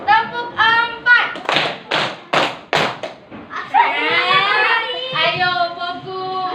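Children in a classroom clap their hands in a rhythmic pattern, a run of sharp, distinct claps, then break into excited chatter and singing voices.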